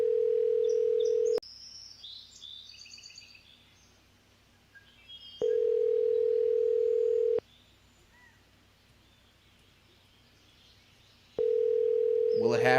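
Outgoing phone call ringback tone: a steady single-pitch tone sounds in long separated pulses with quiet gaps between, alone and clear, with faint chirpy background sounds.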